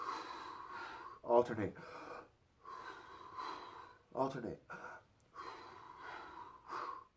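A swimmer demonstrates breathing technique with sharp, close gasping inhales and snorting exhales in a repeating rhythm, interleaved with someone talking.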